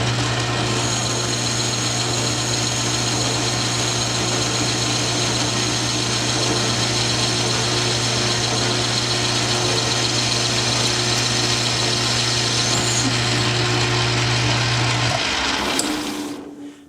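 A metal lathe takes a 20-thousandths cut with an A.R. Warner tool holder and insert, a steady spindle whine and continuous cutting hiss that winds down near the end.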